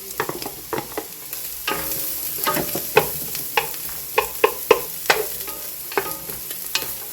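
Onions and carrots sizzle in a pan, a soft continuous hiss broken by repeated sharp scrapes and taps of a utensil stirring them up close.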